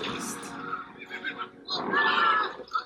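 Horse neighing in a battle-charge film scene from The Return of the King, with whinnies rising over a noisy mix of shouting and commotion, strongest in a long loud burst midway through.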